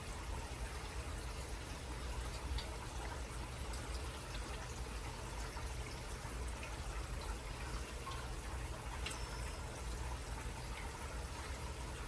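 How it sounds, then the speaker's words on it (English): Bertolli olive oil poured into a pan on a kitchen stove, a steady soft liquid gush and trickle running continuously and close for about twelve seconds, with no talking. "I'm going to take some of my Bertolli and pour in here"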